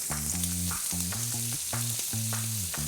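Garlic prawns sizzle in oil and butter on a BBQ hotplate, a steady close crackle with periodic stirring scrapes and clinks, while music with sustained low tones plays throughout.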